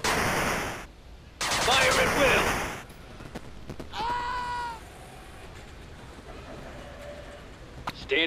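Gunfire in the 8 Bit Armies strategy game: two loud bursts of rapid automatic fire separated by short gaps, followed by quieter clicks and shorter game sounds.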